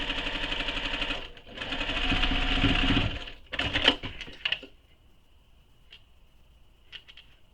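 A sewing machine stitches a crossbody bag pocket closed, running in a loud, rapid whirring burst, pausing briefly, then another short run with clattering, followed by a few faint clicks as it stops.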